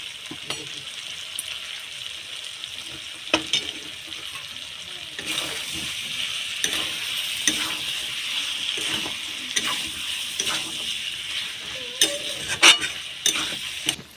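Meat stir-fried with spices and salt for a thin meat curry, with a steady sizzle broken by frequent sharp clanks and scrapes of a spatula against the pan, close and clear, without voices.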